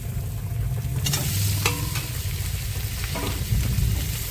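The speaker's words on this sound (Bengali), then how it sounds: "দিয়ে ভালো করে একটু নাড়াচাড়া দিয়ে দেবো" Fried pointed gourd being stirred into a spice masala in a pan, a loud continuous sizzle broken by a few sharp scrapes and clinks of the spoon against the pan, with no talking.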